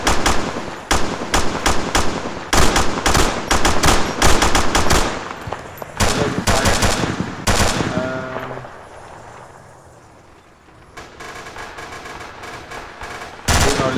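Loud bursts of automatic gunfire in a military video game, rapid close rattling volleys broken by a brief quieter lull before the shooting resumes.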